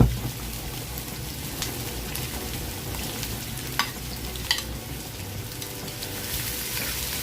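Bacon frying in a pan with garlic and onion for oily miki noodles gives a steady, dense sizzle throughout, with a few sharp crackles and pops, close and without talk.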